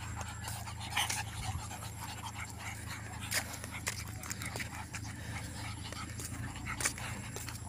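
A dog pants after a running practice session, its breath a quick, steady rasp close by, while people talk and cheer over it throughout.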